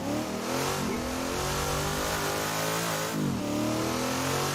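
A Trans Am muscle car engine revs in the Assetto Corsa racing game, the note climbing and dropping through repeated gear shifts, loud and alone with no voices.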